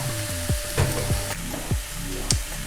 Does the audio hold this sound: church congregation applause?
no